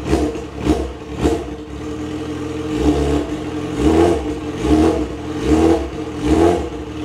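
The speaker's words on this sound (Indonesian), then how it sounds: "Coba kita geber-geber dikit." A big sport motorcycle's engine is blipped repeatedly from idle, with about seven or eight short revving bursts in a loose rhythm, close and moderately loud, no talking over it.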